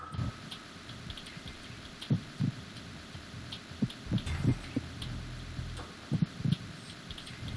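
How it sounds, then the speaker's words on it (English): A thumping heartbeat from the stealth game Metal Gear Solid 2, heard as soft paired low thuds repeating at a steady pace over a faint background hum. "Just listening for a janky heartbeat."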